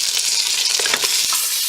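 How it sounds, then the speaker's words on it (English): Onions and tomatoes stir-frying in a little leftover oil on a stove, a steady close sizzle with soft scraping stirs for peanut melon soup, continuous with no talking. "the little oil that is left in that onions is going to help my tomatoes like stir fry together"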